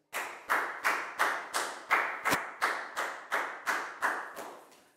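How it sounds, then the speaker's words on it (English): Children in a Year 4 maths classroom clap in a slow, even rhythm of about a dozen sharp, close, unison beats, each strike ringing briefly before the next, with no talking. "a big round of applause for Dan"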